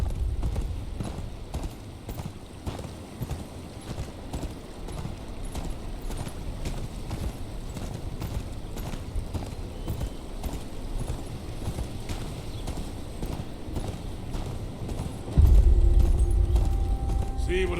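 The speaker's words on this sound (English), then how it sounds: "Where's your horse? Mount up and let's go." Steady hoof clip-clop of a horse at a walking pace in the Game of Thrones: Kingsroad video game, with a low rumbling ambience that swells louder near the end.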